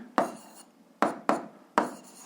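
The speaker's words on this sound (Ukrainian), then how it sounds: "пишемо відповідь" A pen writing an answer by hand on paper: four sharp, close strokes, each a bright scratchy onset fading into a short scrape, with quiet pauses between them and no talk.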